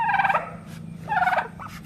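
Two mother ducks penned on a farm give two short bursts of rapid, honking quacks close by, with a brief fainter call trailing after.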